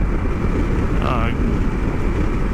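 A Kawasaki KLR 650 motorcycle rides at cruising speed on a road in Mexico, a loud constant low engine drone heavily mixed with wind buffeting, with a brief higher whine passing around the middle.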